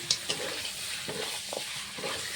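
Potatoes are stirred into mutton curry frying in a pan, a hissing sizzle under a few soft scrapes and knocks of the spoon, close and fairly quiet.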